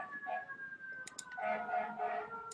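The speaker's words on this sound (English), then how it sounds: "Can you hear these sirens behind me?" Emergency vehicle sirens wail outside, faint and distant with rising and falling tones, under steady background noise.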